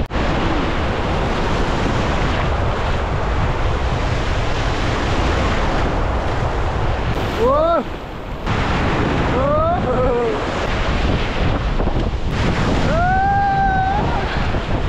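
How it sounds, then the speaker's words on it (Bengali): Sea waves breaking on Mandarmani beach, a continuous loud roar of surf with wind buffeting the microphone and brief distant calls heard over it. "মাঝে মাঝে কিন্তু বেশ বড় বড় ঢেউ আসছে"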